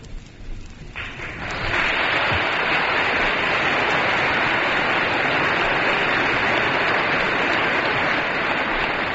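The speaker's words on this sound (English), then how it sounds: "Members of the Senate and the House applaud the President's important speech" Members of the US Senate and House, at a joint session of Congress in 1948, break into sustained, loud applause for President Truman's speech, swelling within the first two seconds and continuing as a dense, even roar of clapping.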